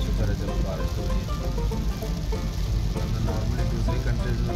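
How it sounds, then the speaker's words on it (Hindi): Steady rain patters on a car during a drive, a dense continuous hiss and drumming at even loudness throughout, with no voices. "अल्लाह का शुक्र है चलो बारिश हो रही है।"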